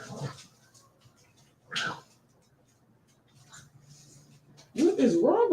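A dog gives short whimpering, snuffling sounds in brief bursts separated by quiet, close by, and a high whining cry rises at the end.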